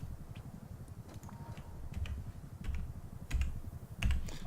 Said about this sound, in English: Let's open the door, put our code on.